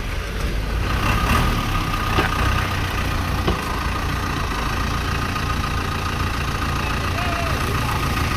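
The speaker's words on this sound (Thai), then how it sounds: "เสียงเครื่องก็เงียบดีครับ" A 1991 Isuzu NKR110 six-wheel truck's diesel engine idles steadily and fairly quietly, a continuous low rumble with some background noise and no talk over it.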